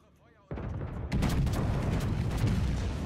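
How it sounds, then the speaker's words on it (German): Bismarck battleship gunfire in World of Warships: after a quiet start, a heavy booming salvo hits, followed by a second, louder blast and a sustained rumbling roar. "Meine Schüsse gehen komplett vorbei."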